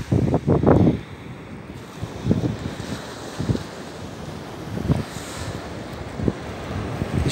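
Wind gusts on a Baltic Sea beach at Malinovka near Zelenogradsk, with strong buffeting bursts at the start and weaker thumps later over a steady wash of surf and breeze.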